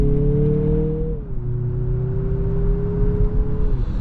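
A 2026 Mazda CX-50 Turbo Meridian Edition SUV accelerates hard in second gear on paddle shifters, its engine droning loudly from inside the cabin with a rising hum that dips briefly, then climbs again.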